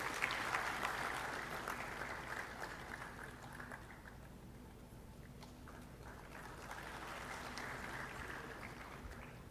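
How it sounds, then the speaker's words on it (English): An audience at the inauguration of the Singapore India Hackathon 2023 applauds with a soft, distant wash of many hands clapping that eases off midway and then swells again in a large hall. "A huge round of applause, ladies and gentlemen."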